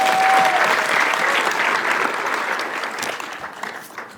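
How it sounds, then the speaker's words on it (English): Audience applause at a bar admission ceremony, a dense wash of many hands clapping that stays steady and gradually thins toward the end, with no talk over it. "Can we give a round of applause for that?"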